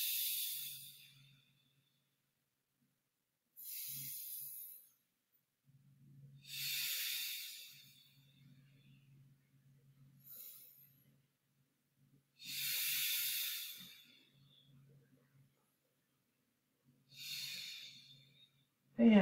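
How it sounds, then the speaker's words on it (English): Deep, slow exhaling breaths during a mindful movement exercise, about six long airy hissing breaths spaced through a quiet room, each swelling and fading, close and soft. "Exhaling."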